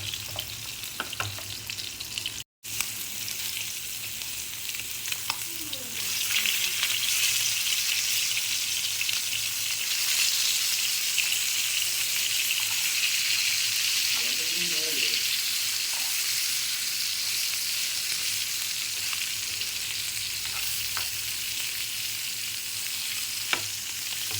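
Fish coated in masala fries in a pan with very little oil, giving a steady, bright sizzle that continues for the whole stretch, with occasional faint stirring clinks and no talk.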